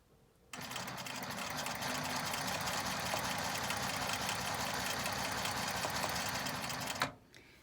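A sewing machine stitching a jewel center quilt block runs steadily at high speed for about six and a half seconds, a close, even mechanical whir that starts and stops abruptly.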